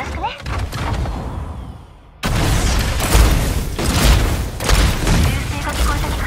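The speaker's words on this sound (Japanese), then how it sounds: "銃声が聞こえた気がする。" Video game gunfire in SMC: a rapid burst of sharp shots, a sudden drop to near silence, then a loud barrage of booming reports and blasts close up, with the loudness swelling in waves.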